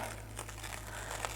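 A sheet of paper is peeled from a paint-covered gel printing plate, giving a brief, quiet crinkling and tearing rustle at close range.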